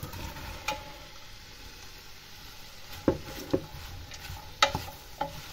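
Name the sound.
cabbage and onions frying in a pan, being stirred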